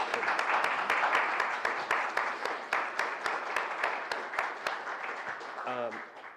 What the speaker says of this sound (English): let's give y'all a round of applause